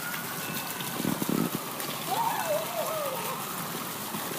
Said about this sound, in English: Ignore the sound of water.